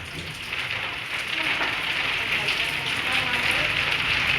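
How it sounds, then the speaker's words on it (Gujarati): Heavy rain from a sudden windstorm pours down steadily in a dense hiss that swells slightly louder as it goes on, close and continuous. "ત્યાં વરસાદનો અવાજ તમે સાંભળતા"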